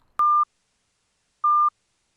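A pure sustained harmonic tone, isolated from any other sound, plays twice as two identical steady beeps separated by silence, clean and loud with no voices.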